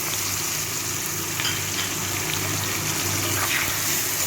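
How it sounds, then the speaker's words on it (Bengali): Potatoes, onions and tomatoes fry in hot oil with nigella seeds, giving a steady, close, continuous sizzle with light crackle throughout and no talking. "আলু, পেঁয়াজ, টমেটোটাকে একটু ভালো করে ভেজে নেব।"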